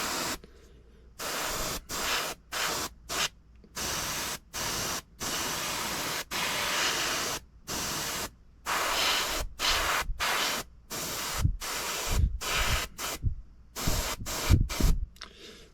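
Vallejo acrylic paint sprayed from an airbrush onto plastic in a thin first coat, heard as a run of short hissing bursts with brief pauses between them, close and steady, with no voices.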